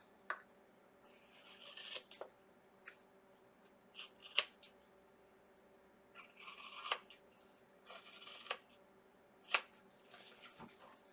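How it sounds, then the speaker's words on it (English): Scissors trim the overhanging edges of a paper craft box, a series of quiet, close snips and paper rustles spaced irregularly throughout. "I'm going to trim up the edges"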